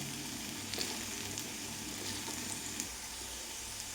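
Okra fries in coconut oil with a steady, moderately quiet sizzle and crackle. Occasional faint stirring scrapes sound through it.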